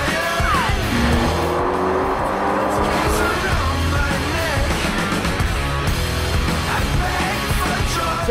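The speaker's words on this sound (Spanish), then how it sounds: "nos metimos en un banco de potencia amigo y corroboramos si esas dos potencias eran reales o no" A Peugeot 308 GTI and a VW Golf GTI run hard on a dynamometer, giving loud, sustained engine revving with rising and falling pitch and sharp high chirps over the roar.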